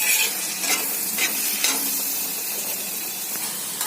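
Ingredients for a shrimp curry fry in a pan with a constant loud hiss and sizzle, while a utensil stirs and scrapes against the pan several times, close up.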